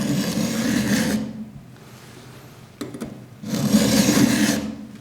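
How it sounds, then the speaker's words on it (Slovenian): Round file rasping along the teeth of a chainsaw chain in steady strokes, two long filing passes close and clear, separated by a quieter gap with a couple of light metallic clicks. "Vedno brusimo od začetka do konca pile."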